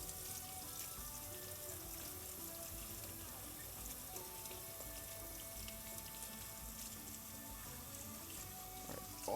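Photographic developer poured out of a film developing tank makes a faint, steady liquid splash and trickle, lasting several seconds in a quiet room.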